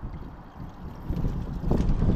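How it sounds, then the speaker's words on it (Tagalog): Strong wind blows outdoors in Finland and buffets the microphone with a heavy, low rumbling roar that grows louder toward the end. "Ay, ang lakas ng hangin."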